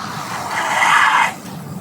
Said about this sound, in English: All right, locked up the rear brake.